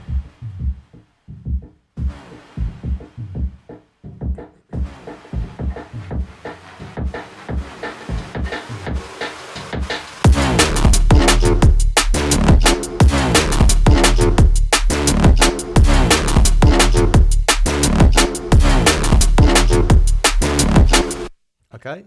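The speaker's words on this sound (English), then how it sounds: "But I like this sound here, like this kind of one-shot bass sound." Drum and bass intro built around a one-shot bass patch made in Phase Plant: a sparse rhythmic beat with punchy hits, then after about ten seconds a dense, loud full mix with heavy sustained low bass, playing alone.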